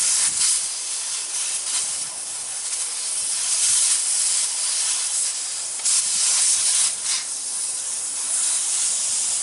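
Air hisses steadily out of a big truck tire through an open valve stem as the valve core is pulled at a home tire change, a continuous close broadband rush with brief surges partway through.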